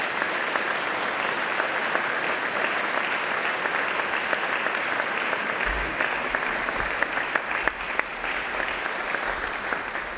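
A concert audience at a New Year's gala in a museum hall gives sustained, full applause, a thick, even crackle of many hands lasting the whole stretch, with a few low thumps partway through.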